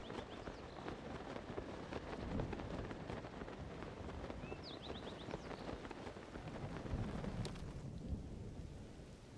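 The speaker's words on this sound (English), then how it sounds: "Alright, we will bear out the thunder." Thunderstorm in the video game Zelda: Tears of the Kingdom, with steady rain hiss and low rolling thunder rumbling continuously, swelling louder near the middle and end, with no talk over it.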